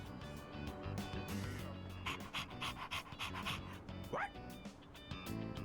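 A dog in the video game Persona 3 Reload pants in quick, rhythmic breaths close by, with a short rising whimpering yelp near the end, set over soft background game music.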